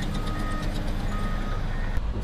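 Heavy machinery and dump trucks work at an earth-fill site on a highway duplication project, a constant loud engine rumble with a reversing beeper sounding repeatedly over it.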